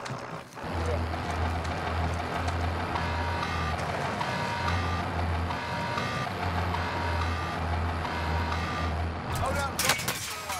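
A vehicle drives in a shooter video game, its engine droning steadily while a rhythmic reversing-style beep pulses underneath, with a sharp clatter near the end and voices talking over it.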